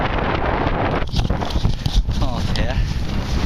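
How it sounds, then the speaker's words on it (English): Constant wind buffeting the microphone, a loud rumbling roar throughout while a person speaks briefly underneath. "And I'm sorry about the wind."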